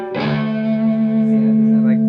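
A single sustained electric guitar chord played through a Zvex Distortion pedal with a gritty overdriven tone, ringing out loud and close with a touch of echo.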